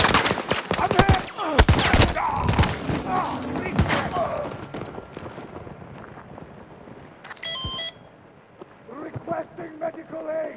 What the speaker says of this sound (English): They're shooting at me! I'm hit!